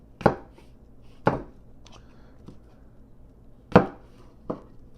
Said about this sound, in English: That'll do some chopping, so here we go.